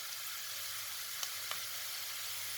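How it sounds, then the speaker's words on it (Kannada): Curry leaves and peanuts frying in oil over a low flame give a steady, soft sizzle, with two brief crackles standing out midway through. "ಹಾಗೆ ಶೇಂಗಾ ಹಾಕ್ತಾಯಿದ್ದೀನಿ. ಸ್ವಲ್ಪ ಫ್ರೈ ಆಗಲಿ."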